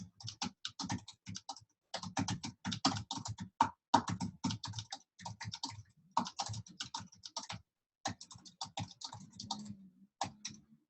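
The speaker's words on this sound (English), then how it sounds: "I'm actually typing pretty well" Fingers tap out a message on a computer keyboard in quick irregular bursts of clicks separated by short pauses, close and fairly quiet.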